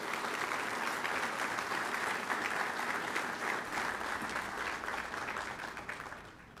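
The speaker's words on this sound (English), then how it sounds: "I'd like to everybody give them a round of applause for their support." Sustained applause from an audience at an awards luncheon, steady and dense clapping throughout that eases slightly at the end, with no speech over it.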